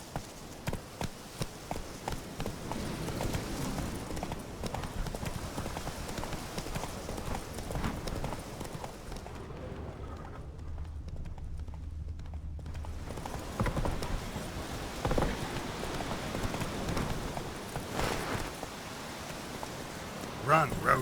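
Roach, a horse in The Witcher 3, gallops with rapid, rhythmic hoofbeats clattering over the ground, briefly dropping out midway before resuming, with a voice speaking over it.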